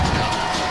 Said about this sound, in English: The crowd is loud for the Tigers.